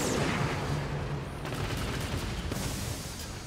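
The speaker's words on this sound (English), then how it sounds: "What the fuck just shot at me?" Gunfire and explosions echo across a battle in Call of Duty: Warzone, a dense, continuous wash of booming blasts and crackling shots, some nearer and sharper, with no lull.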